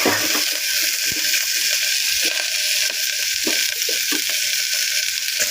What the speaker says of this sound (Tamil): கொஞ்சம் வதக்கி கொடுங்க கொஞ்சம் வதங்கினாவே போதும் இப்போ நம்ம வெங்காயம் பச்சை மிளகாய்